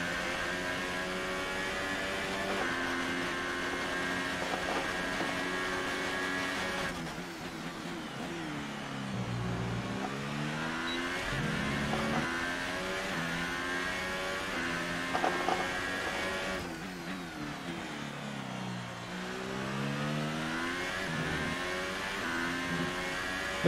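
A McLaren race car engine in the F1 2018 racing game at the Hungarian Grand Prix revs high and continuously, pitch climbing through gear changes and dropping for corners over a steady, loud whine.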